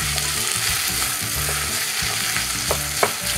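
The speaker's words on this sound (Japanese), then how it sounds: "この玉ねぎを炒めます。" Onions sizzle steadily in hot oil in a pot while making Indian curry, with occasional stirring scrapes and clinks, no talking.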